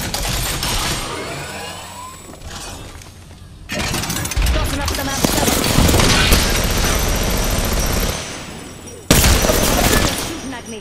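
Apex Legends gunfire during a firefight: sustained rapid automatic shooting, loud and close, broken by brief pauses and a sudden sharp burst near the end, with voices talking over it.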